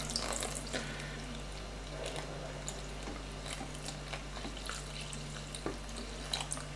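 About 300 ml of liquid for homemade bread is poured into a container in a home kitchen, a faint, steady watery trickle with soft splashes and drips over low background hum.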